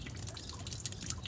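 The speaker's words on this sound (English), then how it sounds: "As the snow is melting, the water is dripping down." Water from melting snow drips outdoors in quick irregular drops, a fairly faint patter over low background rumble with no talking.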